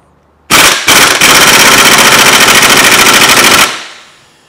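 An impact wrench rattles off the crank bolt on a Kia/Hyundai V6 engine, loud and close: two short bursts, then a sustained hammering buzz for about two and a half seconds before it stops and rings down.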